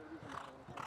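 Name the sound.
horses running on racetrack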